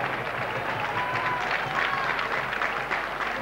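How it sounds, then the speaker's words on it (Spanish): A football stadium crowd at Couto, the ground of CD Ourense, applauds during a 1997/98 match against Sevilla CF, a broad, continuous wash of distant clapping and crowd noise with no talk over it. "a pesar de todos los aplausos del público de Couto"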